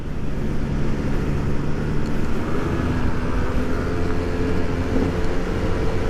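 A small dual-purpose motorcycle misfires at wide-open throttle, its engine a steady, strained drone that never builds power, loud and close with no voices.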